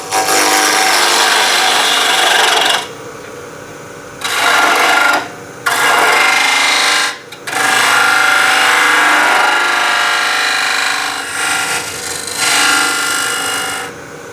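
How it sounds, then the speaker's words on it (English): A bowl gouge roughs out a wood blank spinning on a lathe, giving loud rasping, scraping cuts in several bursts separated by short pauses. "Just using the bowl gouge to rough it out."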